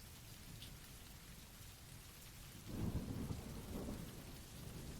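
Steady rain falls in a forest at night, and a low rumble of thunder rolls in partway through before fading back into the soft, even patter.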